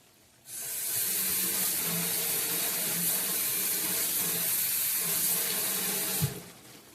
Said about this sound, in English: I'm going to drain that batch of water.